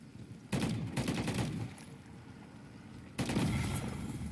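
Gunfire in the Call of Duty Modern Warfare 3 Zombies video game, with two separate bursts of rapid shots at wall targets, about a second of firing, a pause, then another sustained burst, loud and close.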